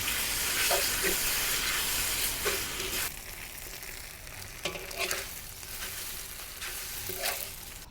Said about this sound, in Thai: เส้นที่เราผัดเนี่ยผัดให้มันต้องใส่น้ำมันเยอะนะผัดให้มันเกรียมๆให้มันแบบมีกลิ่นกระทะ